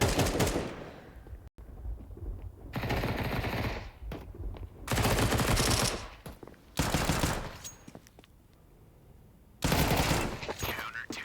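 Bursts of rapid gunfire from a Counter-Strike professional match, including Five-SeveN pistol fire, loud repeated volleys separated by quieter gaps, with a commentator speaking throughout.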